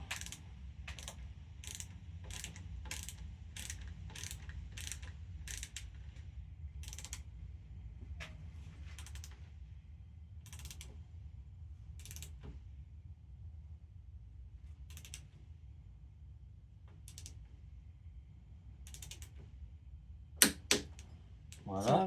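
A torque wrench tightening a fork bolt on a 2008 Harley-Davidson Softail Cross Bones gives a steady series of crisp mechanical clicks, close and fairly quiet over a low background hum, ending in a couple of louder clunks as it reaches torque.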